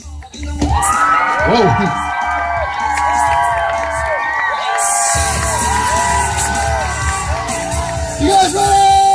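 A crowd of children and adults at a martial arts show during the 2014 Grange Fair cheers, whoops and yells loudly and continuously, with a sharp surge of shouting midway and a man's brief exclamation near the start.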